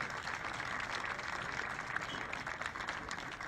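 Rousing applause from a crowd at a high school stadium dedication, honoring the stadium project team; dense, steady clapping that holds at an even level throughout, with no speech over it.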